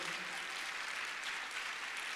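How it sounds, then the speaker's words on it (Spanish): Church congregation applauding during a Spanish-language sermon, a steady wash of clapping held at a fairly faint, even level throughout, without any voices. "demos un aplauso al Señor"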